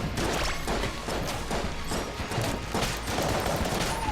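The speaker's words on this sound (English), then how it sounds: "The Polaris fires like twice as fast if you tap fire. That's going to get really annoying to hear, though." Rapid bursts of tap-fired shots from the Polaris gun in Enter the Gungeon, dense and continuous with cluttered game noise throughout.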